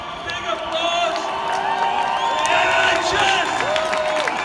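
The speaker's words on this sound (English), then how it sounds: "I want you to give her a big round of support. Big applause." An outdoor crowd at an anti-vaccine protest in Birmingham, UK, cheers and whoops while clapping goes on continuously, with voices heard through the noise.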